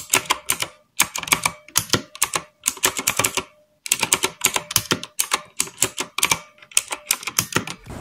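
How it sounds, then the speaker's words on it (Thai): Fast typing on a mechanical keyboard with blue switches, sharp loud clicky keystrokes in dense bursts separated by brief pauses, close and alone. "มันเป็นคีย์บอร์ดแบบ blue switch นะครับคือกดแล้วมันจะเด้ง2ทีทำให้เสียงมันดัง"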